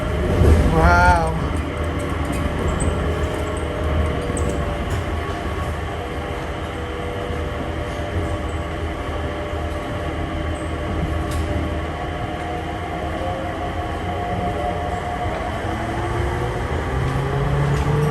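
An automated airport train at Dubai International Airport carries riders between gates, giving a steady low rumble and rolling hum with rising motor whines. A muffled voice sometimes comes through over the constant ride noise.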